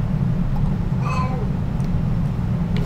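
A cat in The Sims 2 gives a single short meow near the middle, heard over a steady low game background hum.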